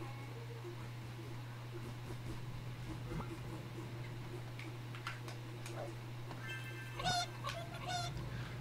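A chicken clucks in the Toy Story 3 video game on Xbox 360 farm level, short faint clucks and squawks over a steady low hum of game ambience, growing briefly louder near the end.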